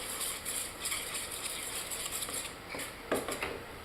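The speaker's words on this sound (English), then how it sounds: "So I'm going to grab a spoon so I can stir it." A spoon stirring melted butter in a bowl for biscuit baking, quick rhythmic metallic clinks and scrapes repeating close by, with a few sharper knocks near the end.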